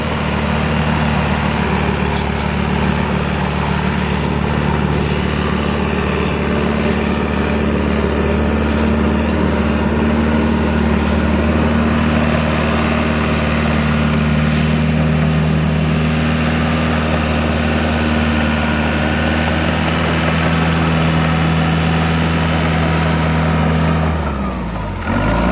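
Heavy excavation equipment leveling out fill material on a property, its diesel engine droning loud and steady for the whole stretch with a rumbling low hum before it drops off abruptly at the very end.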